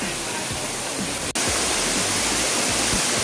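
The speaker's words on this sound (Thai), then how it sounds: "น้ำตกก็จะแรงแล้วก็น้ำก็จะเยอะ" Salatdai waterfall in Nakhon Nayok roaring steadily during the rainy season, a dense close wash of falling water, with faint voices underneath.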